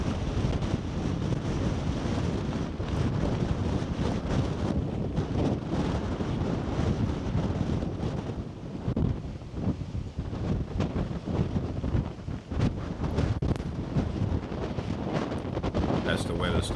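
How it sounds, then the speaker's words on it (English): Strong wind gusts of 50 to 70 mph roar and buffet the microphone at the snowy winter summit of Mt Washington, a loud continuous blustering rush with faint voices underneath. "my wife is walking around on the outside with 50 to 70 mile an hour wind gusts"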